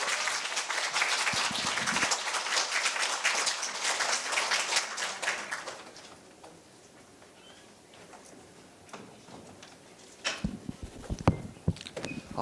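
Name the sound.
audience applause welcoming student hosts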